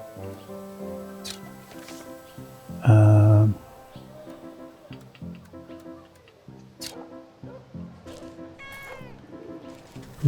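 A cat in the Wytchwood video game lets out one loud, clear meow midway through, standing out over soft background game music.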